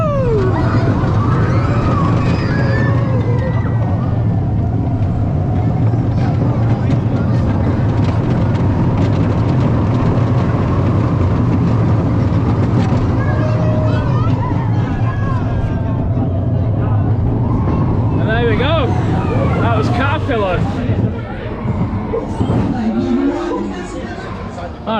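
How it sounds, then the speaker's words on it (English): A ride on the Caterpillar roller coaster at Paultons Park: loud continuous rumble of the train on the track with wind noise, rider voices and crowd babble mixed in, easing off near the end. "Caterpillar, really good coaster, really smooth, quite intense"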